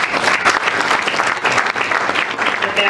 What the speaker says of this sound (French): est-ce qu'on peut s'applaudir à ce stade?